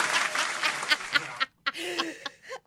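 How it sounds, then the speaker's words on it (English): An audience at a Plainfield City Council candidate event claps and laughs in short bursts, with scattered applause and chuckles. Brief pauses fall between the bursts. "give me one of these audience claps."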